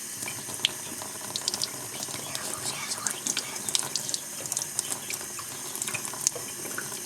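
Tap water runs steadily into a sink over a chicken's soiled vent, a continuous splashing stream with small irregular spatters and drips, close and moderately loud.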